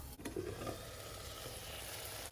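Halved, seeded capsicum cooking under a lid in a pan on very low heat, giving a steady, soft sizzle that runs unbroken and fairly close throughout.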